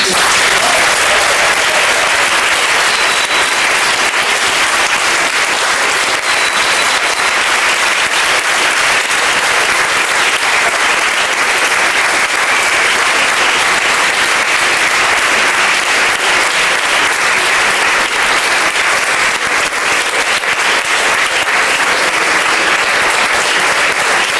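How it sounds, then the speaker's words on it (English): A large audience applauds panelists at a swing dance event in Northwest, loud, continuous, dense clapping that stays at full strength for over twenty seconds without letting up. "So, round of applause."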